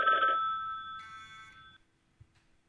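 A telephone rings during a call-blocking demonstration: a bright electronic tone in two short bursts, the second fading out into near silence, with no one speaking.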